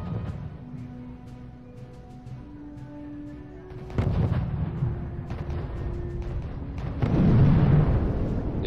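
Assault guns and anti-tank guns firing in the strategy video game RUSE, heavy booming shots and explosions over a low battlefield rumble, growing louder toward the end.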